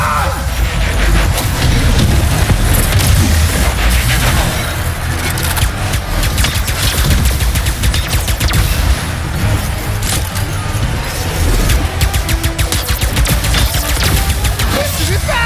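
Dense, continuous gunfire and explosions in Ratchet & Clank: Rift Apart, rapid overlapping shots and booms forming a loud, chaotic battle din that runs without pause throughout.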